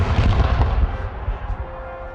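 Skipper, the Virginia Tech cannon, fires in a salute: a heavy, booming roar fills the opening second, then a rumbling echo tails off over the next moment with no voices present.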